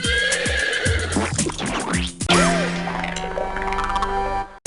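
A loud horse whinny rises and falls, followed by snorting, in a crisp sound effect from the game You Don't Know Jack Vol. 4: The Ride.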